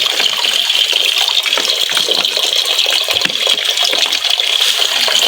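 A Samsung WT16 twin tub washing machine with a 16 kg capacity fills with water, a steady loud rushing gush that runs continuously without pause.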